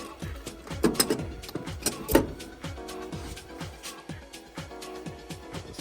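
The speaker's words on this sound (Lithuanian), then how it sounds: "Bandysiu ištraukti varžtą." Repeated metallic scraping and ratcheting while a stuck bolt is worked out of a pellet boiler, an irregular series of close, sharp mechanical strokes with a few louder clanks.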